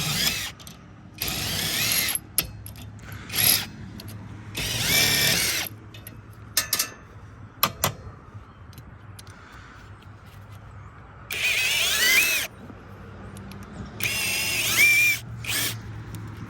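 A ratchet fitted with a short 10mm socket works a bolt loose on a power supply, giving bursts of rapid clicking pawl ratcheting between pauses, close and fairly loud.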